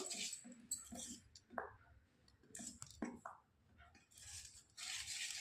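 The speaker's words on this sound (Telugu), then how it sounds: "ఇప్పుడు ఇది అందులో మొత్తం మంచిగా కలుపుకుందాము" A spoon stirs a bath-powder (nalugu pindi, sunnipindi) soap mixture in a bowl, with quiet intermittent scraping and clinking strokes separated by short pauses, fairly close and soft.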